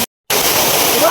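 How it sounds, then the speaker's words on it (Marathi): Ozarde waterfall in Maval, water dropping from a high hill, a dense, steady rushing roar that fills the clip after a brief silent gap at the start. "आपल्या समोर आहे ओझरडे गावातील ओझरडे धबधबा"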